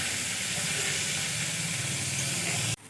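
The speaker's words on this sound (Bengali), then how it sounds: "দেখো বন্ধুরা, পেঁয়াজগুলো আমি কিছুক্ষণ ভেজে নিয়েছি।" Onions sizzle steadily in a hot pan with oil, a loud, continuous hiss that stays even and close before cutting off abruptly at the very end.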